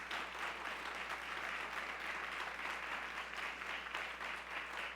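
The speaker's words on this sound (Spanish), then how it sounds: "un aplauso grandísimo para nuestros hermanos en la ciudad de Armenia" A large church congregation in Armenia applauds steadily and evenly, a dense wash of clapping that continues without a break.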